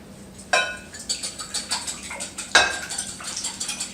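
Eggs being whisked for an omelette, a whisk clattering against a bowl in quick rhythmic strokes, close and fairly loud, with two sharper knocks of utensil on dish and no talking.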